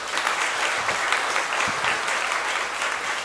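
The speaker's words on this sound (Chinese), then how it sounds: "我们再一次用掌声来谢谢他们。" A church congregation claps together in sustained, dense applause that fills the room evenly from start to finish, with no voices above it.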